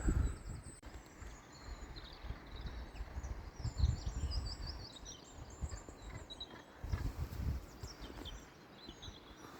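Hooded crows and a raven call over a farm garden, their scattered caws distant and fairly faint above low rustling and rumble.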